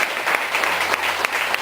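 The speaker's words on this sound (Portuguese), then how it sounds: "Palmas para o Senhor Deus." A church congregation bursts into loud, dense applause during a sermon, a brief, steady roar of many hands clapping up close.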